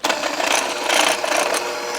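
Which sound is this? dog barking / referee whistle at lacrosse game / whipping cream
whipping cream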